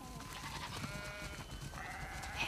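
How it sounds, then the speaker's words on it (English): Sheep bleat faintly in The Last of Us Part II video game, with a couple of thin, wavering calls over a low background, the last one rising near the end. "We definitely have way too many sheep."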